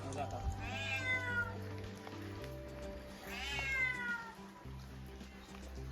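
A cat meows twice, a few seconds apart, clear but not loud, over a steady low hum and some background noise.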